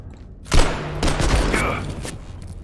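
Gunfire in the video game Abiotic Factor, a burst of loud, close shots that starts sharply and then trails into a sustained, noisy stretch of firing with a faint mechanical whine.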